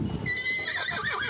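A horse at a ranch gives a loud wavering whinny up close, while hooves clip-clop faintly beneath it.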